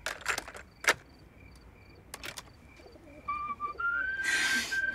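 After a few scattered clicks and taps, a faint whistled tune rises in thin, steady notes, sounding slightly distant and muffled.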